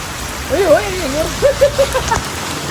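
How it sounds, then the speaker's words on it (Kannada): Steady heavy rain hisses throughout in Goa while a person talks over it, the downpour forming a constant wash of noise behind the voice. "ಮಳೆ ಬರ್ತಾ ಇದೆ"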